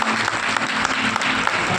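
A church congregation claps in a dense burst of applause during a Hindi sermon, loud, close and continuous for the whole stretch, with no voices.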